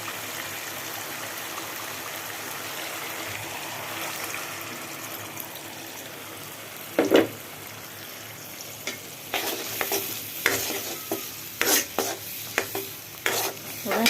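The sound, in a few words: stirring and frying food with ginger garlic and salt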